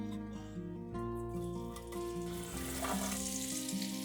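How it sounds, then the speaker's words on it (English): Sausage browns in a hot pan at a cabin kitchen, giving a soft, steady sizzle and crackle that stays low and even throughout. "While the sausage is browning,"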